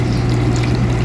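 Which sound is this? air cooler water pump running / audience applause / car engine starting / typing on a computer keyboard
air cooler water pump running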